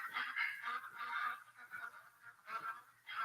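Duck calling in a virtual hunting video game, a run of nasal honking calls in repeated bursts, moderately loud and close, with no talk.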